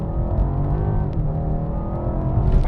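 A BMW M8 Competition Gran Coupe's engine pulls hard in second gear, a loud, continuous, rising roar heard up close with no talking.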